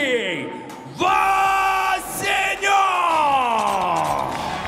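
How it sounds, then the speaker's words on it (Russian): Arena crowd roaring and yelling as a local heavyweight boxer, a 25-year-old from Nizhny Novgorod, enters the ring; loud sustained massed voices swell and surge, with an announcer-like voice carrying over the din. "под ликующие, конечно же, аплодисменты трибун появляется Дмитрий Васенёв"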